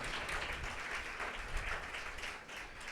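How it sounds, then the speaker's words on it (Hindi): Faint, steady applause from a church congregation during a Sunday service, dense clapping continuing evenly for a few seconds without talk. "जोरदार तालियां अपने लिए बजाइए।"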